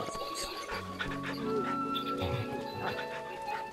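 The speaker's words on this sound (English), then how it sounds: "I like how you can hear the dog, like, on the dual sense speaker" A dog in the video game Final Fantasy XVI pants and whimpers through a small controller speaker, rhythmic huffing breaths running steadily under a person talking over game sounds.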